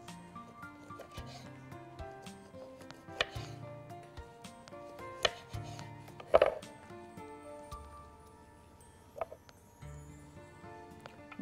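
A knife chops peeled lemons on a board in a series of sharp, irregular taps over soft background music.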